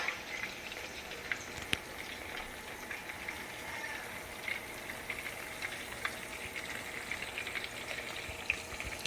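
Chapli kabab meat frying in oil, a steady faint sizzle with soft crackles and occasional small pops, heard alone without talk.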